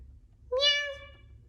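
A single clear, bright cat meow, rising then slowly tapering, heard close against a faint low background hum.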